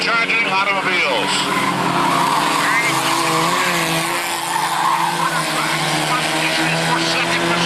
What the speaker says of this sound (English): Four-cylinder hard-charging automobiles.